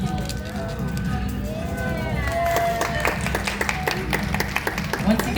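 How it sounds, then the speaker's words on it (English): Applause from a live audience at a bird show after a flight demonstration by an Andean condor, a dense wash of clapping with some crowd murmur and voices underneath, sharpening into louder individual claps toward the end. "Thanks for the applause for that one"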